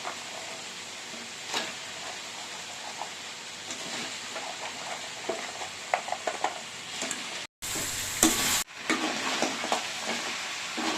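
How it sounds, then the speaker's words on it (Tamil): Crab stir-fried in a sautéed onion-tomato masala, an even sizzle with intermittent spatula scrapes and clatter against the pan, briefly interrupted by a short burst of noise before the frying resumes. "இப்போ நண்டு இதில் சேர்த்துட்டு இப்போ ஒரு வதக்கு இதில் வதக்கிக்கலாம்"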